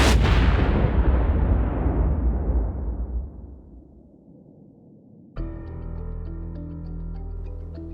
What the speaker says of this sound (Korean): 빅뱅이 일어납니다.